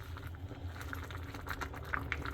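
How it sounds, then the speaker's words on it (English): Water boiling in a pot on a home stove, a soft continuous bubbling with faint pops over a low hum, close and fairly quiet. "let that water boil down, and then we'll put the lid on it"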